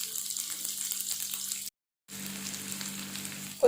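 A large onion cut into long slices fries in hot oil for egg kothu parotta, making a steady, soft sizzle that drops out briefly and then resumes.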